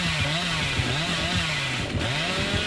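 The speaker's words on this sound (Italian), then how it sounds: "Se si sbaglia con la motosega..." A chainsaw revs continuously in the video game Dead by Daylight, a steady, loud, buzzing engine drone with slight pitch wobbles throughout and no voices.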